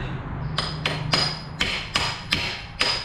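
Sharp metallic hammer strikes ring out on a stuck front axle of a Toyota RAV, about seven blows at a steady rhythm, loud and close against a quiet background.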